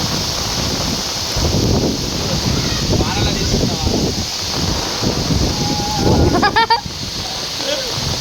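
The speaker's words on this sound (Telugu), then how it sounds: "చల్ల వస్తుంది గాలి" Wind gusts buffet the microphone in a steady rushing roar, with people talking underneath and a short, high voice near the end.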